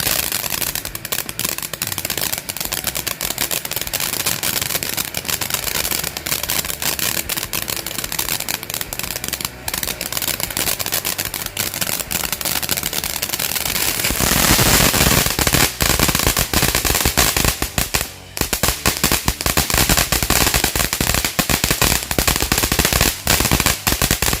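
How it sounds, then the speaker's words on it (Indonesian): Train-style Indonesian firecracker string (mercon kereta) bursting in a dense, relentless rapid crackle, loud and close for the whole stretch, intensifying midway into an even fiercer volley during a Ramadan fireworks session. "Itu dia hasilnya dari mercon kereta guys."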